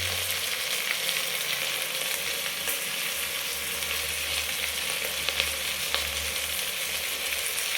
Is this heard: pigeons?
no